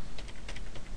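Quick bursts of clicks from typing on a computer keyboard while coding JavaScript, several keystrokes in an uneven rhythm, close and fairly faint, with no talk.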